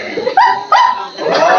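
During a party game at a mehendi function, a person imitates a dog with three loud, close barking yelps in quick succession, each a sharp voiced woof with a short tail.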